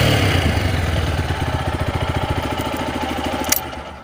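TVS Apache RTR 160 4V motorcycle engine idling close by with a steady, even low throb of rapid pulses, holding constant with a brief click near the end.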